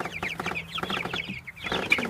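Several chickens cluck steadily close by in a chicken tractor, soft overlapping calls and chatter with a few sharper squawks near the end.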